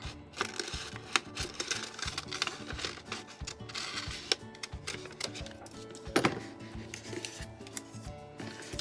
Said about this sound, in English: we are going to pin it onto our felt and cut it out